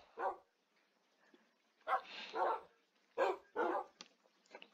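Dog barks from a Minecraft video game, several short separate yaps and barks in an irregular run, clear and fairly close, with no talking over them.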